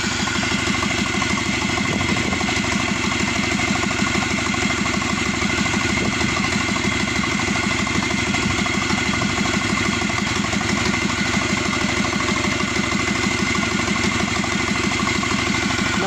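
A used Subaru EJ255 turbo engine from a Forester SG9 runs on a stand, idling with a steady, loud, rhythmic chug and mechanical clatter close by, unchanging throughout with no talk.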